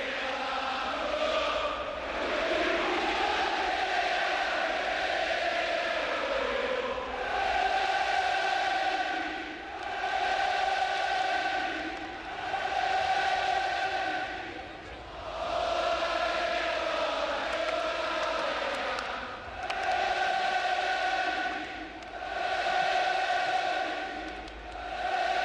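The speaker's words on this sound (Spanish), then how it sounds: "Suena el himno del Betis, se canta a capela, todas las bufandas extendidas, las banderas." Real Betis fans at the Benito Villamarín stadium singing the club anthem a cappella before a match against FC Barcelona, a huge crowd chorus echoing around the ground in swelling, rhythmic phrases that rise and dip for about twenty-five seconds.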